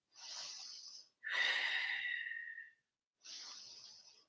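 Slow deep breaths during a yoga flow, three airy breath sounds separated by short pauses, the middle one longer with a wheezy, whistling edge, close and quiet.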